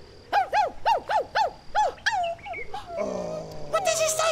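A dog gives a run of six quick, evenly spaced yelping barks, then a longer whining growl and a rough, rising snarl, close and fairly loud with no talk over it.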